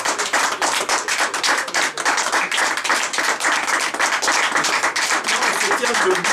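Church congregation clapping in a dense, continuous roar of hands, loud and close, sustained evenly from start to finish without pause.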